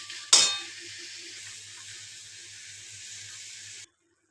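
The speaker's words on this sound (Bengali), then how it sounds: "এই একটু জল দিয়ে দিলাম," Water is poured into banana flower curry in a hot pan. A sharp hiss bursts up on contact and then settles into a steady, loud sizzle that holds until it cuts off abruptly.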